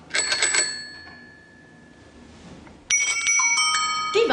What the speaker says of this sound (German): Ich habe hier vor mir 3 verschiedene Fahrradklingeln.